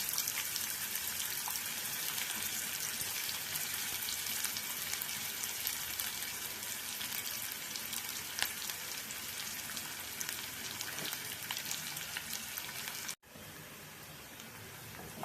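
Steady, dense sizzling from a pan of finely chopped onions frying, continuous crackle throughout with a brief dip near the end, no voices.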